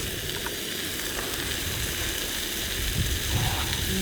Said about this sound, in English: There's enough fat and oil in the prosciutto that you don't need to oil a pan